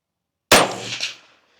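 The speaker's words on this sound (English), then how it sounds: "Smacking that target." A single sharp clang as a CCI rimfire .22 Magnum bullet strikes a steel target at a shooting range, a loud metallic ring that decays over about a second after silence.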